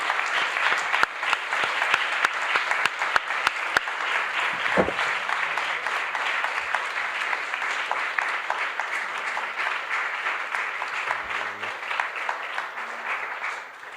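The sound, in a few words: audience applause for conference speakers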